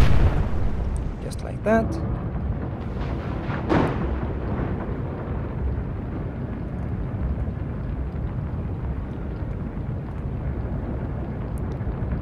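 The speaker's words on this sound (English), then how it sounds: "You're going to fire at the front of the ship." Naval gunfire against a ship in the naval combat game Atlantic Fleet: a few heavy booming blasts early on, followed by a low rumbling aftermath, with someone briefly speaking.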